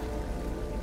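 Steady rain falls in the video game Beyond Two Souls, a continuous dense hiss of drops on surfaces with no voices over it.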